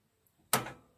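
A JCB backhoe's solenoid coil gives a single sharp click while being shifted between forward, reverse and neutral, brief and fairly quiet against near silence.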